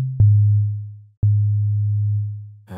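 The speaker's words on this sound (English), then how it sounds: "create a kind of Reese bass. So a sustained bass line that's going to sound really rich" A sustained Reese-style bass synthesizer tone made in Ableton plays as two long, deep, smooth notes, each starting with a sharp click, loud and clean with nothing else around it.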